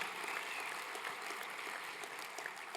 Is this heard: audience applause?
yes